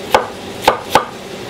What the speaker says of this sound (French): Les pommes de terre, je vais les couper en petits dés.